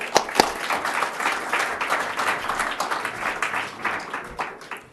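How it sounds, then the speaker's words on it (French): An audience at an awards ceremony breaks into applause, starting with a few loud claps then settling into steady, moderately loud clapping from a crowd. "Donc c'est Benjamin Gage, qu'on peut applaudir, bravo."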